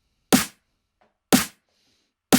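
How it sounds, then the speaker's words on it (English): Three punchy layered snare drum hits built in Ableton Live, evenly spaced with sharp bright attacks and short decays, separated by near silence. "Actually not a bad sounding snare"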